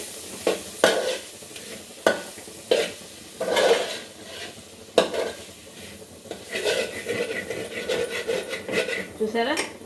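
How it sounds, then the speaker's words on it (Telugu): A spoon scrapes and stirs through egg fried rice in a pan in repeated strokes, with metallic clinks and a soft sizzle underneath. "నేను వెంటనే తిప్పాను"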